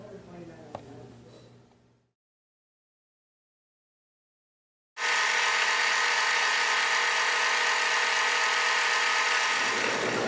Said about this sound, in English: you can use the decorative stitches built into your machine other than the straight stitch